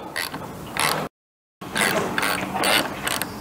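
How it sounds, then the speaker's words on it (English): A ratchet wrench loosens the lower triple clamp pinch bolts on a 2024 Kawasaki ZX6R, giving rapid close clicking bursts broken by a brief silent gap. "we are just going to loosen the lower triple pinch bolts"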